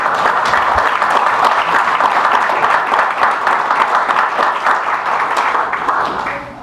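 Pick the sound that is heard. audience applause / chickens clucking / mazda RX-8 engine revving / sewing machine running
audience applause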